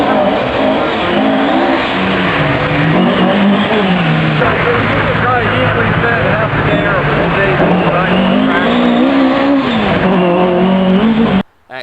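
A Ford Mark II Escort RS 1800 rally car drives hard, its loud engine roaring continuously with rising and falling revs for about eleven seconds before cutting off abruptly.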